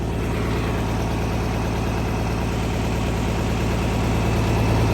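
Engine running at a steady, loud idle with a deep, even rumble and vibration from start to end, no voices heard over it.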